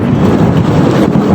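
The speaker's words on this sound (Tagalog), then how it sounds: "Ang lakas ng ulan." Loud, dense roar of heavy rain close by on a farm, with thunder rumbling underneath; steady and continuous.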